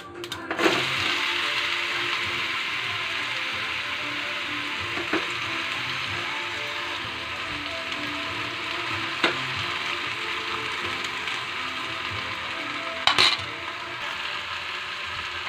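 Pieces of bhol fish frying in hot oil with a mustard seed tempering give a steady, close sizzle throughout, broken by a few sharp clicks of a utensil against the pan.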